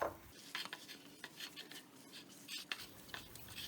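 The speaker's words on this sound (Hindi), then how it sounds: "अब इन सब चीज़ों को अच्छे से मिक्स कर लेंगे" Sweet potato tikki mixture is worked into a dough by hand in a bowl, giving quiet, irregular squishing and scraping sounds with occasional soft knocks against the bowl.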